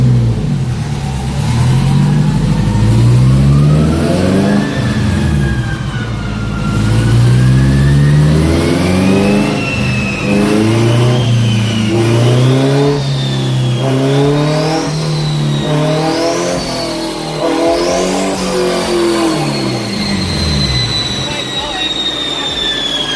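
A tuned 700 HP Honda S2000 revs hard on a street pull, the engine climbing loudly through several gears with rising pitch and brief dips at each shift, close and dominant.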